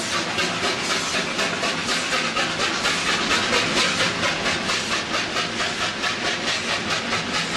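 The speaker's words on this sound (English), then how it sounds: "Victorian Loco R749 takes a special train south from Albury across the border." Victorian steam locomotive R749 hauls a special train south from Albury, a loud, close, continuous hiss and rhythmic chuffing with rolling wheel noise throughout.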